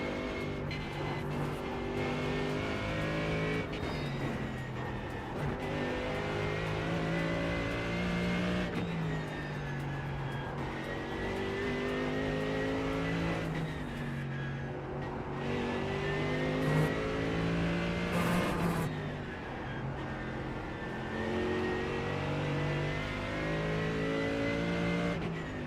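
A GT3 race car in a racing video game revs hard through repeated upshifts and lifts for corners over the curbs, its engine note rising and falling in a steady cycle. It plays at moderate loudness with no talk.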